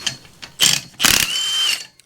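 Short metallic ratcheting clicks and a grinding creak come from a pipe bender die forming a roll cage tube for a Willys Jeep hot rod, heard up close in a couple of bursts with no talking.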